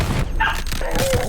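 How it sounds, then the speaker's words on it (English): A pet dog barks a few short, sharp times nearby indoors while a fighting video game plays in the background. "He keeps barking."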